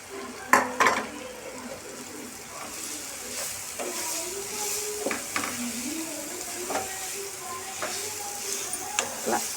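Upma semolina roasting in a pan on low flame, with a soft continuous sizzle and repeated scraping strokes of a spoon stirring against the pan, close and steady with no talk.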